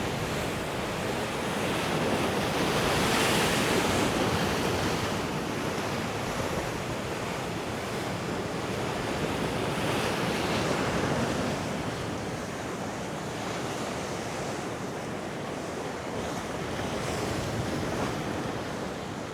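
Strong wind sweeps Costa de la Calma beach in Mallorca as waves break and surge, a loud, broad roar of surf and gusting air with rumbling wind buffeting the microphone, swelling and easing without any speech.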